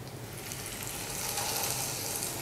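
Aloo kabab, spiced potato patties, fry in oil in a frying pan with a steady, even crackling sizzle that holds close and constant throughout.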